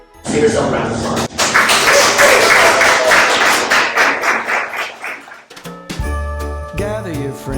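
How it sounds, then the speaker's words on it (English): An audience at a law firm Christmas celebration claps: a dense, loud burst of applause swells for several seconds, then fades as music with a low beat takes over. "Give yourself a round of applause."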